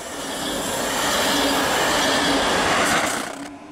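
A Freizeitexpress Frankenland passenger train with four Twindex double-deck middle cars, sandwiched between class 111 locomotives, rolls steadily past close by on the Main-Spessart line, a broad rushing rumble with rhythmic wheel clatter and a faint metallic squeal, fading slightly at the end.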